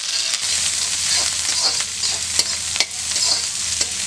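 Shallots fry with curry leaves in a pan, producing a loud, steady bright sizzle with occasional clicks and scrapes of stirring, close and continuous, no voices present.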